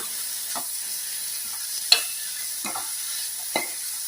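Okra frying in a pan gives off a soft, steady sizzle, broken by a few scattered spatula scrapes and taps close by.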